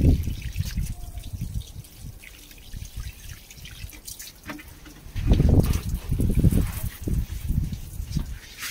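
Water trickles and drips onto kangkong plants as they are watered in a garden, a soft running splash that swells louder in the second half, with a voice talking intermittently over it.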